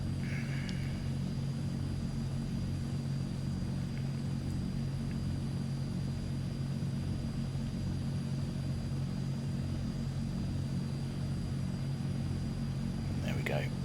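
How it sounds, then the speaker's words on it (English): A Transall C-160 turboprop in Microsoft Flight Simulator starts up and settles into a steady, loud droning hum with a constant high whine, running continuously for the whole stretch with no talking. "We have good engine start."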